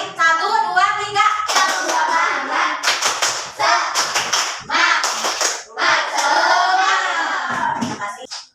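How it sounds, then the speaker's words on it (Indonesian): A classroom of students performs a rhythmic clapping chant, bursts of synchronized claps alternating with loud group voices in short, punchy phrases. "Coba tepuk semangat lagi deh, biar semangat ya, jangan ngantuk"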